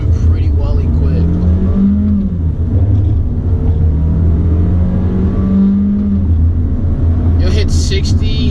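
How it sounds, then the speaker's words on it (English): A 2016 Volkswagen Jetta SE TSI in manual mode accelerates through the gears, its steady engine drone rising in pitch, then dropping with each upshift, under someone talking throughout. "You'll hit 60 at mid-range of third gear, and that was me doing it in manual, trying to get there."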